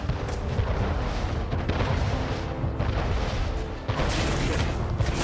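Cannons fire in an Anno 1800 naval battle between ships of the line, a dense, continuous rumble of booms with a sharp louder blast near the end.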